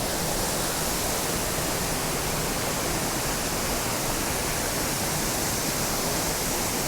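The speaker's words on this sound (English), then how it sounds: "we hear the water coming down pretty quickly" Waterfall in Mt Field National Park, Tasmania, roaring as a steady, dense broadband rush of falling water, loud and close, unbroken for the whole stretch with no voices.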